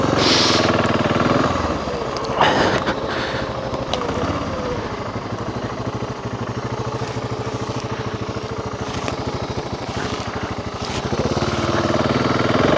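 BMW G650 XCountry single-cylinder motorcycle riding on a road, a loud, close, steady engine drone with rapid pulsing, a brief rise near the start and slight swells later.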